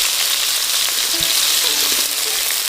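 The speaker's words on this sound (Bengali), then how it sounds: "আলু আর গাজর একটু ভাজা ভাজা করে নেব আগে।" Potato and carrot pieces frying in very hot oil in a pan, a loud, continuous dense sizzle with faint stirring clinks, close up and without talk.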